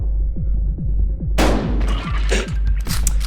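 A shotgun blast in the game Buckshot Roulette bursts out sharply partway through over a low throbbing ambient hum, followed by a ringing decay and a few lighter clicks.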